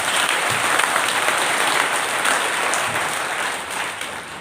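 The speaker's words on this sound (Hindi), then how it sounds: "चलो ये ताली बजाइए" Devotees at a Hindu religious gathering clap together in a loud, continuous burst of applause that stays dense and even throughout without any talk over it.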